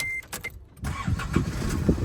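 An old Isuzu D-Max pickup truck engine idles steadily at close range with a low rumble, after a short beep at the start.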